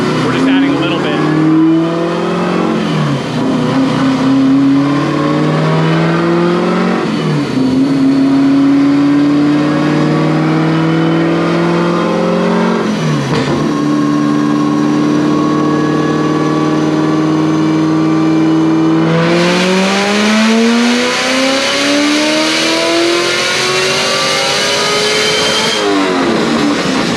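A cammed Chevrolet Corvette Z06 revs hard on a dyno during a tuning run. The engine note climbs in several repeated sweeps and then holds at a loud, high roar near the end.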